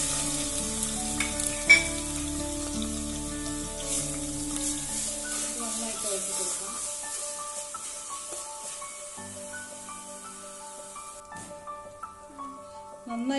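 Garlic-ginger paste fries in hot coconut oil in a pan for a Kerala beef fry, a steady close sizzle with occasional stirring that fades toward a quieter hiss later on.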